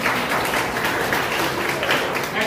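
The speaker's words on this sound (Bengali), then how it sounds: "আই গ্রুপের একটা হাততালি" School students at a Bengali quiz competition clap together for one group, a dense pulsing burst of hand-claps filling a room, with voices mixed in.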